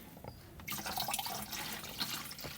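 Magnesium sulfate solution is poured out of a container for feeding blueberry bushes: a close, steady splashing gush of liquid starts abruptly and runs on without any talking.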